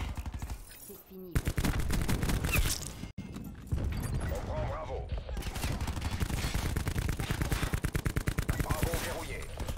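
Rapid gunfire in a multiplayer shooter video game, dense bursts of automatic shots crackling in quick rhythmic volleys, briefly broken by short pauses, loud and close throughout.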